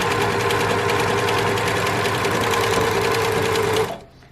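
A sewing machine runs steadily while stitching fabric bunting, a loud, close, continuous mechanical whir that stops abruptly near the end.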